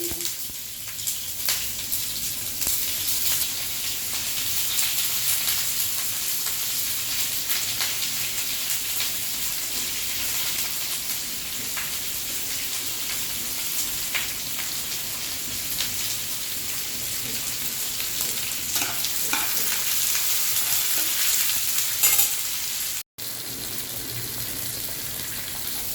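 Onions fry in hot spiced oil with dried red chillies for a monsoon lunch, giving a steady, dense sizzle and crackle that holds for the whole stretch with small pops and a brief break near the end.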